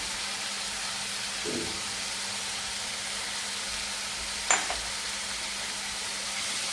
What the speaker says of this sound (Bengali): এবার মশলাটা আস্তে আস্তে ভালো করে ভেজে নেব।